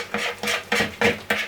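A spoon stirs cookie batter in a bowl for spider-shaped biscuits, making five steady, rhythmic scraping strokes about a third of a second apart, close and clear with no talking.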